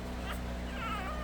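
A four-day-old Toller puppy whimpers softly, thin high cries rising over a low steady room hum, fairly faint and close, with no speech.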